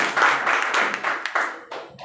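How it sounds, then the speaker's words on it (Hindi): Brief burst of clapping from a gathered group honouring a respected guest, a handful of uneven, close hand claps over a couple of seconds. "मैं चाहूंगा हमारे जितेंद्र सर के लिए एक जोरदार तालियों से सर का सम्मान किया जाए।"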